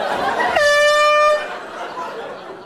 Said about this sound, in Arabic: بيوقف حدا وبلش يزمر إنكاية